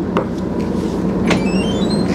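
A few hollow knocks land on a wooden cabinet in a 2024 Newell Coach motorhome, spaced apart and fairly soft against a steady low background hum.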